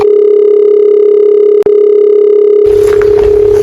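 A loud, steady telephone tone sounds while a call is being placed, continuous apart from a single very brief dropout, with a faint background hiss joining near the end.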